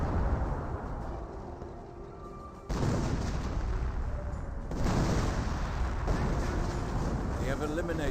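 Artillery barrage in a Company of Heroes battle: dense, continuous rumbling bombardment with heavy booms landing around the third and fifth seconds, a voice talking over the din.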